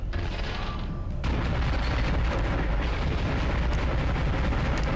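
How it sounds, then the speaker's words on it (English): Bombardment explosions in the sci-fi horror game Dead Space: a dense, continuous roar of booming blasts and rumble that swells louder after the first second and stays heavy and unbroken. "Already commencing bombardment."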